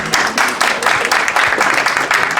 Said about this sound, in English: have a round of applause for that